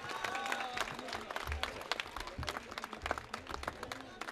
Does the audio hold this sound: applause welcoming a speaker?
yes